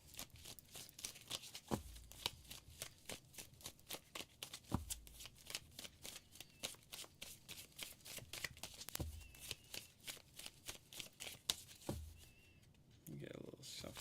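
Tarot cards are shuffled close up in a fast, regular riffle of crisp flicks and slaps that repeats steadily throughout, ending with a brief rustle.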